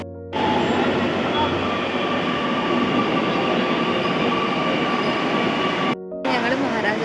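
A Kochi Metro train rolls from Edappally station with a loud, continuous rumble of wheels on rail and a steady interior hum. The sound breaks briefly near the end, then resumes.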